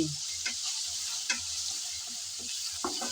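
Shrimp and pumpkin sizzle steadily in a pan, with a constant hiss broken by several soft scraping stirs of the spatula at irregular moments.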